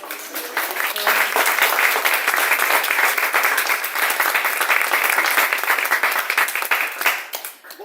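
Steady applause from an audience at a book presentation of short stories, dense and sustained for several seconds before fading out at the end, with no talk over it.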